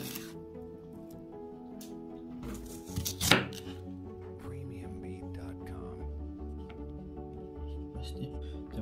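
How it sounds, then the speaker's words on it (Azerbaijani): A knife chops small onions into half-centimetre pieces on a board, with one louder cut standing out amid quieter tapping and a steady background hum. "Soğanın məsləhət görürəm ki, yarım santı kimi doğrasaz daha rahat olur"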